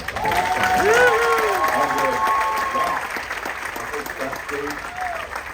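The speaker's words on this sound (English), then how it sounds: "Please give a big round of applause" An audience aboard the cruise ship Grandeur of the Seas applauds steadily after an orchestra performance of The Four Seasons, with a voice speaking over the clapping, which gradually tapers off.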